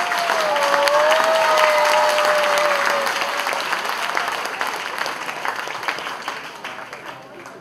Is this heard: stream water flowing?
no